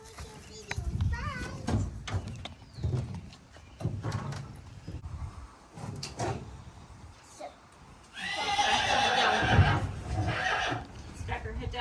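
A horse whinnies loudly and close, a long shaky neigh near the end, with people talking and children's voices scattered through the earlier part.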